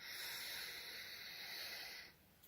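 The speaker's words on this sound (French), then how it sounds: "Boucher l'autre narine et expirer par la narine droite jusqu'au bout de l'expire." A long, steady breath is pushed out through the right nostril during a pranayama yoga exercise, a soft airy hiss lasting about two seconds before fading into quiet.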